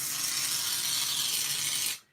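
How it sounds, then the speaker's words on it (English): Continuous hiss of an aerosol spray can being sprayed for about two seconds at close range, steady and loud, then cutting off abruptly into quiet; used for messy-play art backgrounds with ink reinkers and shaving foam. "I'm just going to spray this stuff"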